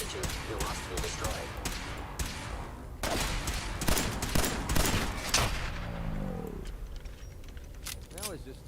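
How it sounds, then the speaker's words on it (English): Gunfire in the Fallout video game, rapid bursts of loud shots and clattering impacts close up, with a synthetic robotic voice speaking over the combat. "Opening fire! Engaging."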